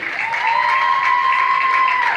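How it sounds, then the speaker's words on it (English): Applause for National Honor Society students at a high school graduation ceremony, a brief burst of steady clapping from a crowd, with a sustained whistle-like tone running through it. "A round of applause for all of our National Honor Society students."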